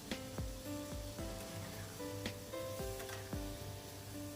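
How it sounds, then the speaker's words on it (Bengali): Chopped tomatoes with turmeric, chili powder and cumin sizzle in a hot pan while a spoon stirs them, giving a steady fry with repeated scraping knocks, close and alone. "খুব ভালোভাবে টমেটোগুলো নাড়াচাড়া করে নেবো"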